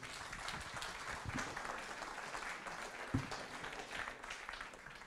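Press-conference audience at the 2015 French motorcycle Grand Prix applauding Fabio Quartararo, a steady wash of many hands clapping at moderate distance throughout, with no talk over it.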